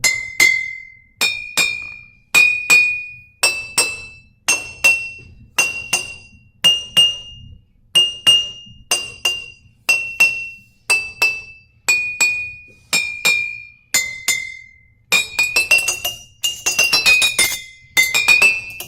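Glass jars holding different amounts of water are tapped one at a time, starting with the fullest, each ringing with a clear bright tone that shifts in pitch, followed by a quick run of faster clinks.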